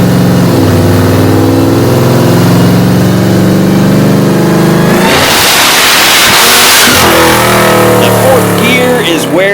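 A Hellcat-swapped 1972 Dodge Demon accelerates hard in fourth gear, its supercharged engine loud and steady as the pitch climbs, then a rushing burst of boost and wind midway before the engine settles into a renewed rising tone.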